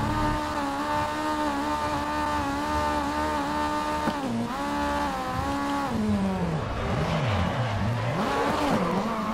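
A race car engine revs hard in the racing game GRID, a loud steady drone climbing and falling through gear changes, then swooping up and down in pitch as the car brakes and accelerates through corners.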